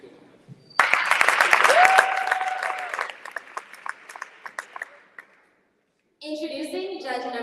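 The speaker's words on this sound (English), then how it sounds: "Please give a round of applause for Miss Tracy Cologne." An audience at a pageant applauds a judge being introduced, a burst of clapping that fades into scattered claps before a voice speaks again.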